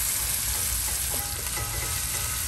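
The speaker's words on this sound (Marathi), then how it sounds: "आनी आतां एका बरें भाजून घेवया आमी" Onion, green chillies and curry leaves fry in oil for dal tadka, giving a continuous loud, close sizzle with light stirring over the short stretch and no voices.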